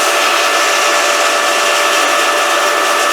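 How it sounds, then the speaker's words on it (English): The pump of a maple sap concentrator runs steadily during a concentrate flush, giving a loud, constant mechanical whir that holds unchanged throughout with no talk over it. "So the same way, you start the pump"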